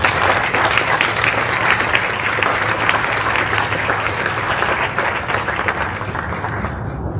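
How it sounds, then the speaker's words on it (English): Audience at a school end-of-year ceremony applauding the lacrosse team, dense sustained clapping from a sizeable crowd in a hall, steady throughout and easing slightly at the end. "Let's have a round of applause for our lacrosse team."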